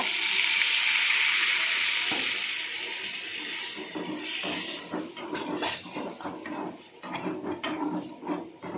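Water is poured into frying masala for an egg and plantain gravy, a steady hiss and sizzle that fades into scattered clinks and scrapes of a pan and utensils close by, with no talking.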